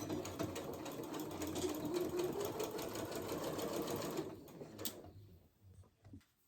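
A sewing machine stitches a 5/8 inch seam around the curved crotch of flannel-style pajama pants, a steady close whirr that stops near the end, followed by a few faint handling clicks.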